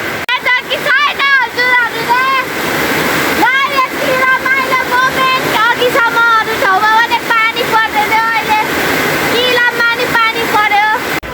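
Heavy rain falls outside in a steady broadband wash, continuous and fairly loud, heard beneath loud, nearly constant talking.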